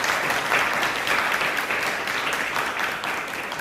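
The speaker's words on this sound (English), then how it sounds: "A big round of applause to our future board members." A PTA meeting audience applauds the future board members, a steady, full round of clapping from a room of people that eases slightly toward the end.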